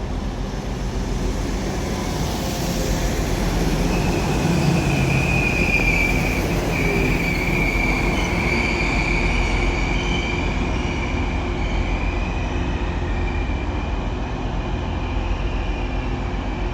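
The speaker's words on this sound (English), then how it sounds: "This Northern Class 195 arrives into Manchester Victoria now with the delayed 14:03 Northern service" A Northern Class 195 diesel train rolls into Manchester Victoria station with a loud, steady rumble, wheels squealing and a whining tone rising and falling as it arrives close by.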